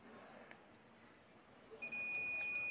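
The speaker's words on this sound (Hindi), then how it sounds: "देखिए बीप की आवाज़ भी आ रही है" A multimeter gives a continuity beep while a CRT TV part is tested. The steady, faint electronic tone starts partway through and holds unbroken to the end over quiet background noise.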